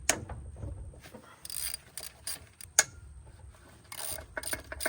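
A ratchet loosens bolts on the water pump of a Suzuki 150 outboard motor, making faint, uneven clicking bursts with small metallic knocks between quiet pauses.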